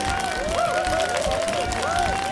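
A recorded cheering-song effect plays on a livestream: a crowd claps and cheers under a looping melodic line, steady and fairly loud throughout.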